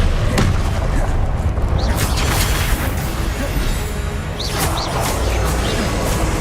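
Repeated Confringo fire spell blasts in Hogwarts Legacy go off as several booming, explosive bursts spaced a second or two apart. The blasts come loud and close over continuous rumbling game noise.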